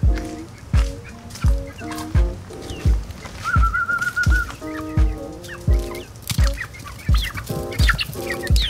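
Chickens clucking steadily in a backyard coop, a run of short, close clucks and squawks repeating every half second or so, with one drawn-out higher call in the middle and no talking.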